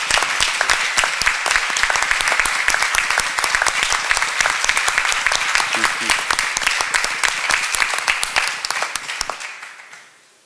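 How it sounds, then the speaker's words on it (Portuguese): Audience applause at a book launch and debate on the political culture of forgiveness and reconciliation: a full room claps steadily for about nine seconds, then the clapping quickly fades out. "Yo quiero, en gratitud, que le demos un aplauso a Eke, al cual va dedicado el libro."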